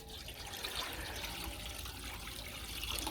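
Hot tap water pours into the water bowl of a budget £70 smoker, a steady hissing, splashing stream heard close and continuous without talk.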